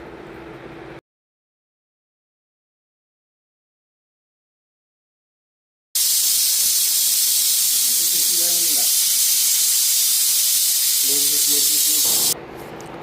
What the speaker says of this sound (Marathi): कुकरच्या 2-3 शिट्ट्यामध्ये आंबे छान मऊ शिजून जातात.